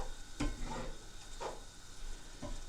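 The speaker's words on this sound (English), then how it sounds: "As you can see, the meat is still cooking." Taco meat cooks in a pan, giving a soft steady sizzle beneath three brief scraping stirs spaced about a second apart, close and moderately quiet.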